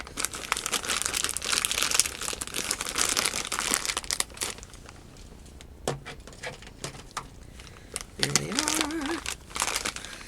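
A mailed package is opened, its plastic packaging crinkling and rustling loudly in close bursts at first, then thinning into sparser handling noises with a short squeak near the end.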